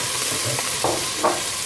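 Bell peppers sautéing in a pan after garlic for a Tiepe dish, a low steady frying sizzle with a few soft stirring scrapes.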